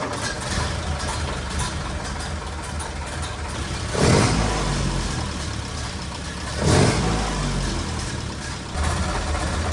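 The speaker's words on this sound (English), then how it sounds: "it really free revs because the belt isn't on." A 1930 Ford car engine, running without its drive belt, runs steadily, then revs up sharply twice in quick bursts, loud and close, settling back to a fast idle between.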